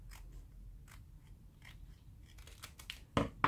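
Scissors trim card stock for a handmade stamped greeting card, with faint scattered snips and rustles and then a louder, crisp crunching cut at the end, close by and quiet.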